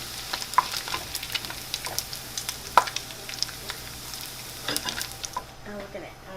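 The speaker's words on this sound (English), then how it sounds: "Our bacon is getting golden brown. Sometimes you can tell too is when the oil starts to get foamy." Bacon frying in foamy oil in a pot for beef bourguignon, a moderate sizzle punctuated by frequent scraping and stirring clicks close up, without speech.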